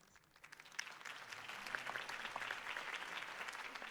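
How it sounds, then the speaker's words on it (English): In-game crowd applause at Harvey Dent's campaign speech in a Batman video game, rising from a quiet start into steady, moderately loud clapping with scattered claps standing out. "could have heard that applause"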